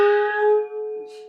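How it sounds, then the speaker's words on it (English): A single gong strike rings out with a bright, sustained metallic tone that slowly decays, followed by a faint second shimmer near the end. "we have a gong that you're going to hear from time to time"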